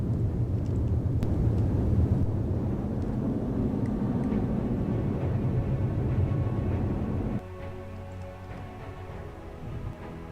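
Engine roar from a jet fighter taking off in From The Depths holds a low, heavy rumble, then drops suddenly to a quieter, thinner drone.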